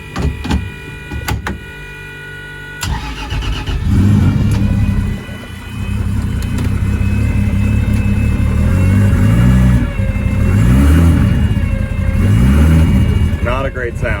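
A car engine cranks with clicks and a whine, takes a moment to catch, then starts and revs up and down in several surges, close and loud, with a voice talking over part of it.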